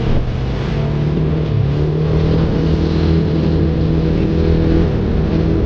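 An automatic scooter engine runs loudly and steadily nearby, its drone swelling slightly as it revs, with no voices over it.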